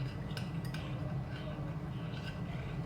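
Spoon stirring white chocolate panna cotta mixture with boiled water in a bowl, giving soft repeated clinks and scraping over a steady low background hum, close and fairly quiet throughout.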